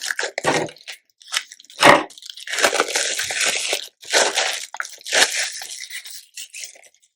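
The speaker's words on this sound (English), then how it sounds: "So I'm just going to take the packaging off and show you." Plastic packaging is torn and peeled off a pack of Pocket Life cards, giving close crackly crinkles, sharp snaps and rustling bursts with short gaps between them.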